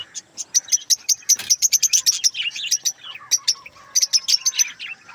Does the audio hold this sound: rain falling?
no